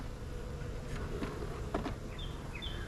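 Honey bees buzz around an open, weak hive during an inspection, a constant close drone with a few individual bees whining past louder for a moment, and no talk.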